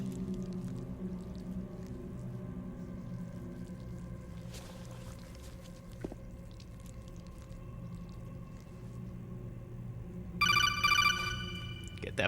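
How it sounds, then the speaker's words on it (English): A codec call rings in Metal Gear Solid, a rapid burst of electronic trills near the end over a low droning ambient game soundtrack. "Get that phone call going."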